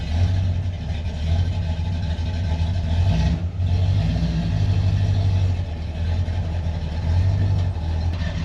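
A 1966 Ford Mustang Fastback with its choke removed runs while being driven, its engine giving a steady, close, throbbing low rumble that pulses gently, with one brief dip midway.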